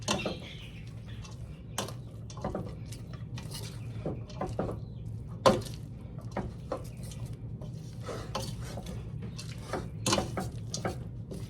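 Frozen peas are stirred into pasta carbonara in a pot, with quiet repeated scraping and clinks of a utensil against the pot over a low background hum.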